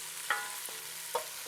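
Chopped onions hit a hot pan for rigatoni with sausage and cabbage, giving a steady close sizzle broken by a few sharp stirring knocks.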